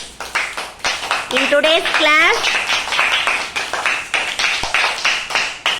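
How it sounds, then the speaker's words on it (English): Students in an English phonics class clap their hands together in a quick, fairly loud burst of sharp, rhythmic claps, with a voice briefly heard among them and a teacher's voice starting to speak as the clapping continues. "You can clap your hands again."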